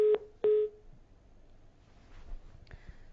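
After a call drops during a live broadcast, the telephone line gives two short, loud, even tones in quick succession, then fainter line noise and a brief higher beep.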